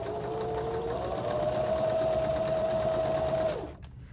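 A sewing machine stitches down the edge of a silk scrunchie in one continuous, close, even whir that runs for about three and a half seconds and then stops.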